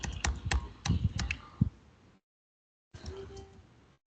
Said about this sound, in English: So just type exactly what I'm typing.